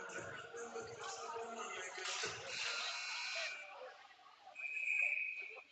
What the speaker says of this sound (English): Just as the puck dropped, the buzzer went off.